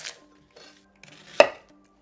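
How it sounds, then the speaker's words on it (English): A kitchen knife slicing onion on a cutting board, a single sharp chop ringing out against a faint clatter, close and otherwise quiet. "while we're cutting onions, nice. Just slice that."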